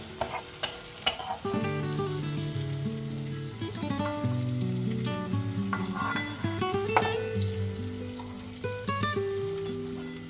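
Onions frying in a pan while being stirred, a continuous close sizzle with frequent scraping and clinking of a utensil against the metal, a few sharper knocks near the start.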